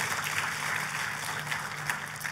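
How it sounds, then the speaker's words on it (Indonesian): Soft, steady applause from a church congregation, a continuous patter of clapping heard at a distance with no talk over it. "Tepuk tangannya yang meriah buat Tuhan kita."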